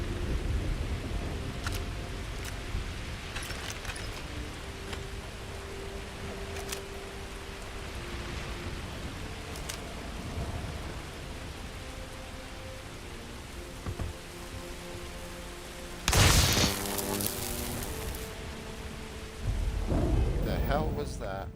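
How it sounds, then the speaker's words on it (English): Freezing rain patters steadily in a Starfield game world, with a sudden loud crack of thunder near the end followed by a rumbling second burst, under faint background game sounds. "Freezing rain, extreme ambient colds."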